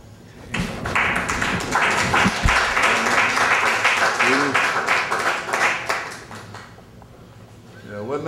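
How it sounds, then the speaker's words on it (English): Audience clapping at a poetry reading in a branch library, a dense round of applause lasting several seconds with scattered sharp taps, then fading out before a voice begins to speak at the end. "Let's give Mom another great round of applause."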